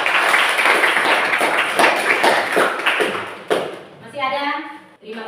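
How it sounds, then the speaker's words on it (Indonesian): A classroom of students claps for a group after its presentation, a dense patter of many hands for about three seconds that fades out before a teacher starts talking. "Luar biasa, tepuk tangan."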